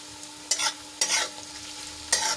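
Onions and potatoes sauté in a pan, with a soft steady sizzle broken by three short bursts of stirring scrapes about half a second to a second apart.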